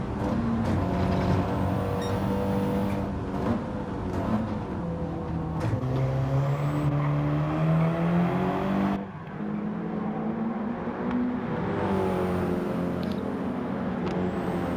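Audi TT Gr4 race car in Gran Turismo 7 racing at Brands Hatch, its engine revving loudly and steadily with rising and falling pitch through gear changes and a brief lift before pulling hard again.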